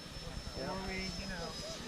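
A Freewing F-22 Raptor RC jet flying on 4S power gives a steady, high-pitched electric fan whine with a low rumble beneath, heard from a moderate distance while people talk over it throughout.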